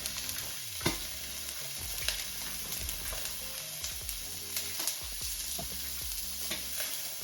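Onions frying and browning in a pan give a steady soft sizzle, with scattered stirring scrapes and light clicks, fairly quiet and close.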